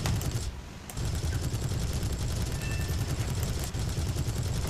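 Aircraft cannon fire in the War Thunder video game, a dense, loud, continuous barrage of rapid gunfire that briefly thins near the start and then rattles on steadily to the end.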